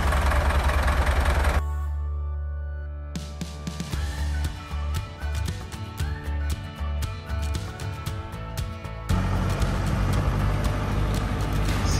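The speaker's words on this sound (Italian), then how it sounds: "in arrivo il trattore" Tractor arriving at a Sardinian campsite to collect an inflatable dinghy, its diesel engine knocking and chugging at low speed, moderately close, with louder broadband noise at the start and end.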